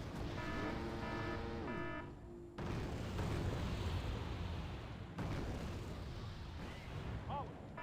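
Incoming rocket artillery barrage in the strategy game Wargame: Red Dragon, a rolling series of heavy booms and rumbling blasts with a brief electronic tone at the start, dense and continuous.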